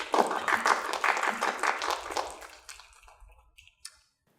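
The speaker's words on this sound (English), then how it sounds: "let's have some snaps and some claps for our reading today" An audience at a spring poetry reading applauds and snaps fingers, a dense burst of claps that thins out and fades, with a few scattered final snaps or claps near the end.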